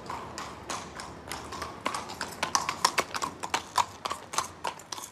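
Hooves of a mounted police patrol horse clip-clopping on a city street, a steady close rhythm of sharp hoof strikes that grows louder and more distinct, with faint background noise and no clear talk.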